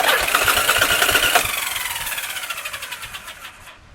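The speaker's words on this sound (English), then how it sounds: "and my engine cranks over." Yamaha Virago XV motorcycle engine cranks over on its electric starter after a starter clutch repair, a loud rapid rhythmic churning that gradually slows and fades over a few seconds without firing.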